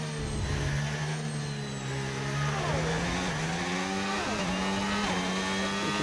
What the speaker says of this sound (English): You can hear those cars roaring by from the other side of the road.